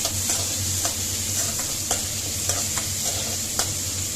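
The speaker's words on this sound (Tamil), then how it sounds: "இது இப்படி எண்ணெயிலேயே ஒரு 2 நிமிஷம் வதங்கட்டும்" Mango pieces frying in oil in a pan for pachadi, a steady close sizzle with a low hum beneath and periodic scraping stir strokes, no voices.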